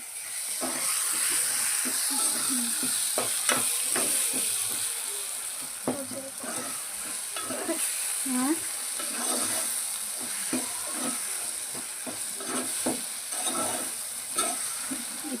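Chicken curry masala frying in a pan while being stirred: a steady sizzle and hiss runs throughout, broken by repeated scraping and clinking strokes of the spoon, with faint voices now and then.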